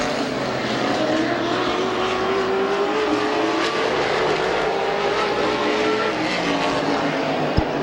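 Race cars roar around Midvale Speedway in a continuous loud engine drone, with one rising pitch sweeping past, under a constant crowd and track wash.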